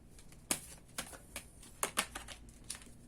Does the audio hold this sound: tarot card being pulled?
yes